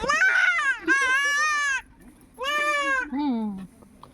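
A young goat kid bleats while being held, three loud, drawn-out cries close by, each followed by a brief pause, with a shorter, lower bleat at the end.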